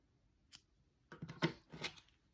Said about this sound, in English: So what I want to do is to cut myself a length of yarn